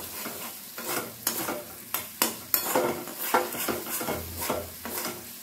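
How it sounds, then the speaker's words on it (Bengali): A spoon scrapes and knocks repeatedly against a pan while a thick besan spice masala is stirred continuously for a vegetarian dish, with a soft sizzle underneath and irregular clacks close by. "এটাকে কন্টিনিউ নাড়াচাড়া করছি"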